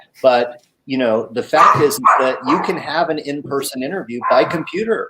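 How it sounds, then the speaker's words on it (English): A dog barks in the background while someone speaks steadily over it, the yips and woofs partly buried under his continuous talk. "Sorry about the dog in the background."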